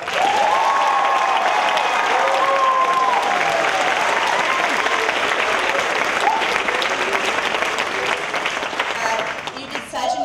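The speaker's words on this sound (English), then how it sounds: "A big round of applause" Loud, sustained applause fills a school culmination ceremony as a large audience claps continuously, with a few cheers and whistles rising above the crowd before it starts to taper at the end.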